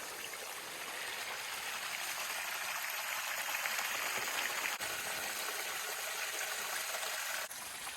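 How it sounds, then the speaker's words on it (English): A small waterfall in Ontario's mountains in winter pours over smooth rock, making a steady hiss of rushing water that stays fairly quiet and unbroken, with no voices. "This waterfall, beautiful. The rock is so smooth as it's falling down."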